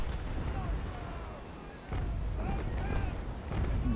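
Enemy warship cannon fire in the age-of-sail naval battle game Naval Action, heavy booms rolling under a dense mix of battle noise with a louder burst near the two-second mark and talk throughout.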